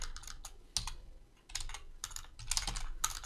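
Keys on a computer keyboard are tapped in quick, uneven clusters of clicks, close and moderately loud, with brief pauses between bursts.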